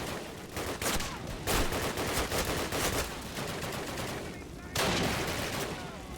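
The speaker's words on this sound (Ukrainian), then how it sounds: "Спробую пошмаляти з цієї зброї, можливо вона класна буде" Rapid automatic weapon fire in the Call of Duty video game, loud, dense bursts of shots with brief pauses, continuous over most of the stretch and close.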